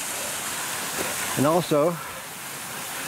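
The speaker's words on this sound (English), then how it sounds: "I'm reaching this last crossing of the trail over the creek," Steady broadband rush of creek water flowing at a trail crossing on a backpacking hike, loud and continuous throughout, with a short spoken phrase briefly over it.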